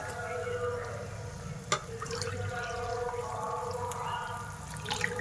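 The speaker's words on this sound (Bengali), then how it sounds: "দুই আড়াই বাটি দুধ দিয়ে দিলাম নারকেলের দুধ" Coconut milk poured steadily into a pot of rice, a continuous liquid rush and trickle lasting throughout with a faint clink partway, close up under quiet room noise.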